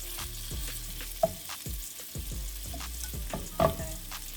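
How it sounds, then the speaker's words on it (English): Food frying in a skillet for a teriyaki beef noodle stir fry, a close crackling sizzle with scattered pops and clinks of a utensil stirring, no talking. "I'm going to fry them till they're nice and brown on each side"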